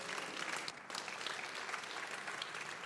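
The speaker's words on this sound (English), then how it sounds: "Your members, can you clap for yourselves" Audience of members at a SACCO annual general meeting applauding, steady and dense clapping that stays even throughout with no talking over it.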